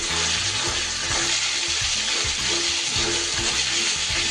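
Ginger paste and five-spice seeds frying in hot oil in a pan, a steady, close, dense sizzle with crackling bubbles, continuous throughout, for a Bengali neem jhol.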